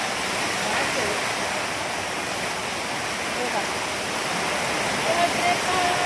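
Rainwater rushes and pours steadily through a heavy downpour on a farm, a loud, unbroken wash of flowing water that fills the whole stretch with no pause.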